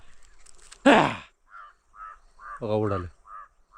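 Crows caw repeatedly in short, evenly spaced calls around a jowar field, moderately close, while someone shouts loudly a couple of times among them.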